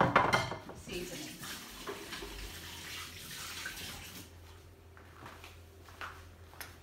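Raw chicken tenders being washed in a bowl under running kitchen tap water, splashing and sloshing with light clinks against the bowl, loudest at first and then settling into quieter trickling and swishing.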